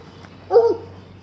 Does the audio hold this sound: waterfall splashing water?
no